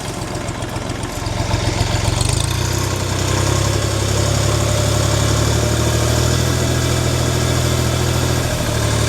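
A DMTZ 244X tractor engine warming up idles steadily and loudly nearby, its low rumble rising slightly and then holding a constant drone.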